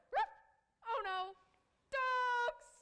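A performer in a middle school stage production of Stuart Little imitates dogs with voice, giving a short yap, a longer howling bark and a sustained wailing bark.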